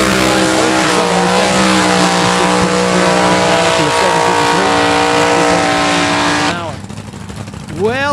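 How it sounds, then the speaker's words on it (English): A funny car does a burnout at the drag strip, its loud, sustained engine roar and tire squeal running steadily for about six seconds before dropping away into a rougher, fading rumble, with a brief rising rev near the end. "that is one dude that loves to do a burnout"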